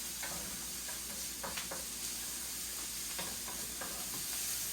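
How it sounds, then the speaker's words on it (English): Mushrooms cooking in butter hiss steadily in a pan while being stirred, the close sizzle broken by soft scraping and tapping strokes of the spoon, with no talking. "So give this a good stir. And we want to let this cook for a good 5 to 7 minutes."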